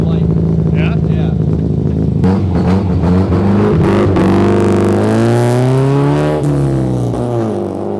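A rear-wheel-drive Honda Civic with a swapped B-series-style Honda engine runs loud and close, its steady engine drone rising and falling in pitch as it revs, with people talking over it.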